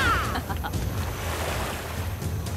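Ocean water and waves in the Guild Wars 2 video game wash in a steady surf rush with some wind, with a few short tonal game sounds near the start.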